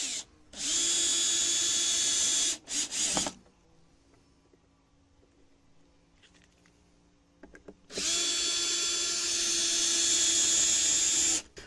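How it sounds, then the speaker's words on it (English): A power drill driving screws into a wooden Vegtrug planter: two loud, steady whirring bursts of a couple of seconds each, separated by a short stutter and a quieter pause with faint handling noise. "Now, a couple of screws to hold that in position."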